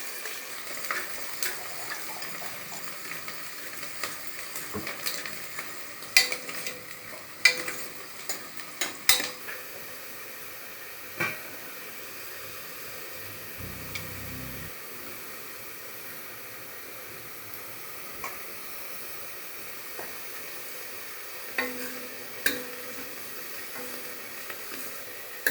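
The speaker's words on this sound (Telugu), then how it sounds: "ఆనియన్స్ని ఫ్రై చేసుకోవాలి" Chopped onions frying in five tablespoons of oil, a soft, low sizzle under intermittent sharp clicks and scrapes from stirring, fairly quiet and with no talk.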